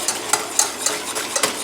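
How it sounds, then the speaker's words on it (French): A spoon stirs coffee, sugar and cocoa into a syrup in a saucepan, making close, fairly loud scraping swirls that repeat in a steady rhythm of about four strokes per second. "On mélange."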